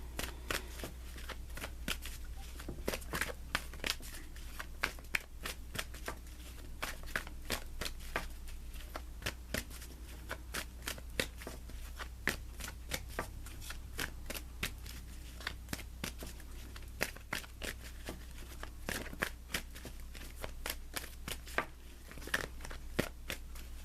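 Tarot cards are shuffled continuously, giving a dense, crisp, fast riffling patter with quick flicks and taps, close and fairly quiet, over a faint low hum, with no talking.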